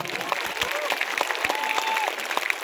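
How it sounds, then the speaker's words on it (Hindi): A large crowd at an election rally claps loudly and continuously, with sharp individual claps standing out against a busy background. Whistles and calls come through, and a voice can be heard over the applause. "जोर से ताली बजाओ जाकिर हुसैन जी के लिए"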